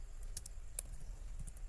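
Soft, scattered keystrokes on a computer keyboard as network configuration commands are typed, a few light clicks over a quiet background hum.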